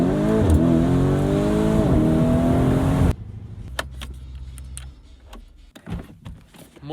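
A Lamborghini engine roars loudly with rising and falling revs for about three seconds, then cuts abruptly to a much quieter scene with scattered clicks and knocks.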